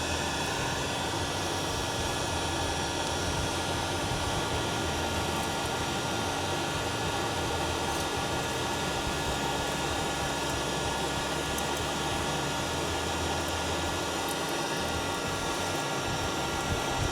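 Electric charcoal lighter heating its element against kamado lump charcoal, a steady broadband hiss and whir like a hair dryer running continuously throughout.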